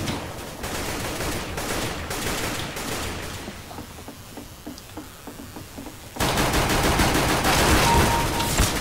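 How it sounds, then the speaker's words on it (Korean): Counter-Strike: Global Offensive gunfire, including an AK, rattles in rapid bursts, with sparse clicks and thuds in a quieter middle stretch before a loud, sustained final volley. "총 쏘고 있었어"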